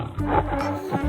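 A tiger gives one short, loud roar lasting about a second, close up and on its own.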